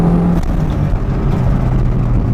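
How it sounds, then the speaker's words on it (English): A Toyota MR2 Turbo fitted with an S54 engine pulls hard in second gear, giving a loud, sustained, steady engine drone heard from inside the car, with no voices. "Let's drop down into second and do some pulls here."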